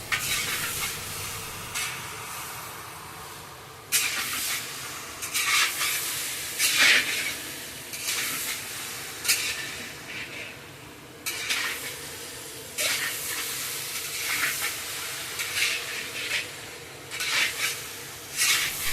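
Cumin powder and radhuni paste being stir-fried with drumstick stalks in a large pot for a big feast, a steady sizzle broken by repeated scraping stirs and occasional clinks of a spoon against the metal, with no talking.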